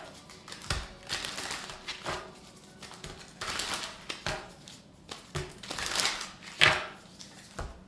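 A deck of tarot cards being shuffled close by, a run of quick papery riffles and soft slaps in irregular bursts, with no talk.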